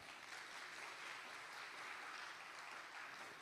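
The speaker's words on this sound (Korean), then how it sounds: "대륜 100주년 비전 선포를 위해 수고해 주신 옥정윤 교장 선생님께 다시 한번 큰 박수" A school centennial ceremony audience applauds the principal, a faint, sustained spread of clapping from a large hall crowd, steady and without voices.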